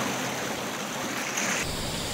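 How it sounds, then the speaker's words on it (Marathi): A stream runs down into the sea at Kondure beach in Vengurla, giving a steady, fairly loud rushing wash of flowing water with no voices. "आणि हो वरना वाहत येलेलो ओहोळ"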